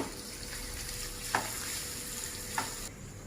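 Frying in a pan before making ghee rice, a steady broadband sizzle with two brief soft knocks of a utensil, no voices.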